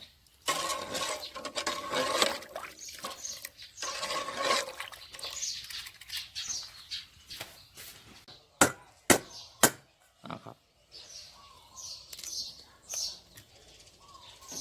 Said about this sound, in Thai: ตอกไข่ทีละลูกนะครับ